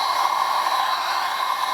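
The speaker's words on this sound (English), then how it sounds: "This is a hot air gun rather than a hairdryer." A hot air gun fitted with a directing nozzle blasts steadily at foam to melt and shape it, a close, loud, continuous rushing hiss with a constant whining tone and no talk.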